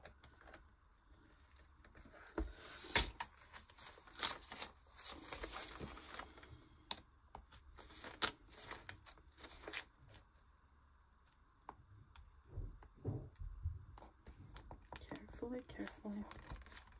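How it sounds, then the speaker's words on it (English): Small pointed scissors snip thread several times in close, irregular clicks, with rustling handling noises and quiet speech in the background. "I'm using those pointy little scissors."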